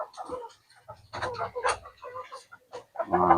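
Boston Brownhead gamefowl chickens in a backyard breeding pen give scattered clucks and fowl calls, near and moderately loud, with someone talking over them and a louder burst of bird sound at the end.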